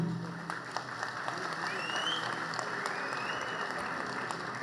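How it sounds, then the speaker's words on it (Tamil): An audience claps at a Tamil political rally with an anti-alcohol and anti-drug theme. Dense, sustained applause runs throughout, fairly close and even. "உடன்பாடு உள்ளவர்கள் எல்லாம் கைத்தட்டுகிறார்கள்."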